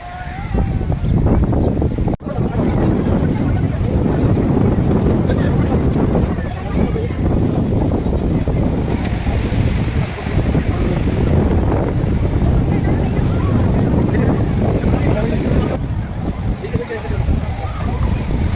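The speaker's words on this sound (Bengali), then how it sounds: "এখানে প্রচণ্ড হাওয়া দিচ্ছে আর এত ঢেউ" Strong gusting wind buffets the microphone over the constant roar of crashing sea waves on the beach at Digha, West Bengal, with voices faintly audible in the background.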